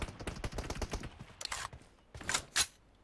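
Rapid automatic gunfire from a weapon in PUBG Mobile on an emulator, a quick close burst of about a dozen shots followed by a pause and a few separate louder cracks, with no voices.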